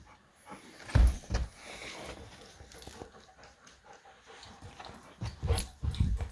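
Dogs make soft whimpering and yipping sounds in short bursts, close by and fairly quiet, with a louder cluster near the start and another toward the end, over a quiet indoor background.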